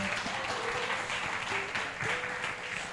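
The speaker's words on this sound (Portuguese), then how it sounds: "Você consegue aplaudir ao Senhor e glorificar a Deus essa noite? Aplauda a Deus." A church congregation applauds together during an evening worship service, a steady dense wash of many hands clapping at moderate distance, sustained for a few seconds without pause.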